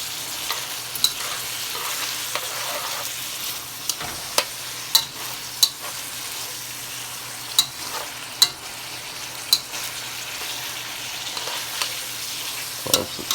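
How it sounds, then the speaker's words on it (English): Beef stir-fries with onions and garlic, a steady close sizzle running throughout, punctuated by scattered sharp clicks and scrapes of utensils against the pan, with no talking. "You want to all stir it, and then completing your stir fry."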